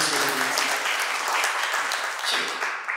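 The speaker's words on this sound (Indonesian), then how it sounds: "Boleh tepuk tangannya buat Mas Febrian." A crowd at a media gathering applauding steadily, dense clapping from many hands filling the whole stretch at a loud, even level.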